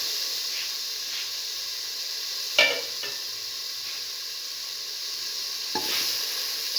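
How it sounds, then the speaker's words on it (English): Potato pieces for a cinnamon potato and French bean dish frying in a pan: a constant close sizzle broken by a couple of short utensil clatters as they are stirred. "Put in the potato pieces."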